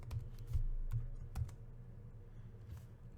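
Code is typed on a computer keyboard in a few soft, close, uneven keystrokes, quiet and alone with no talking.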